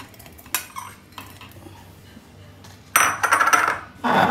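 A spoon stirs chopped mango pieces into a mango milkshake in a glass or bowl, giving close, sharp clinks and scrapes in irregular bursts that grow busier toward the end.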